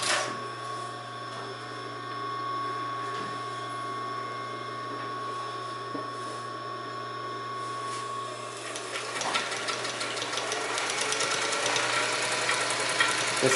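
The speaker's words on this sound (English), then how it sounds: "This is just a piece of denim that I'm sewing." An industrial sewing machine driven by a clutch motor, with knee lift, sews a piece of denim: a steady mechanical hum with fine rapid stitching, growing busier and louder near the end.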